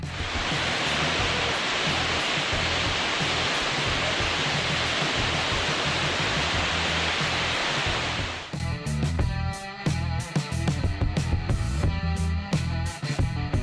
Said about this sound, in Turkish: Bu barajın çıkış kapılarından sadece bir tanesi açık olsa da su büyük bir hız ve basınçla akmakta.